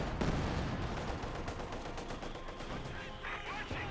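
Mortar and gun fire rattle through a Company of Heroes 2 battle, with a dense, continuous barrage of sharp blasts and thuds, no voice on top.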